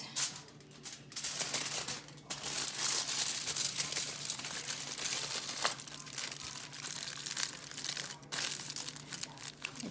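Paper crinkles and rustles up close as it is wrapped around a grilled chicken pita roll, with continuous crisp crumpling and a few sharper crackles.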